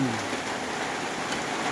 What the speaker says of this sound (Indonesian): Awal pagi ini hujan turun.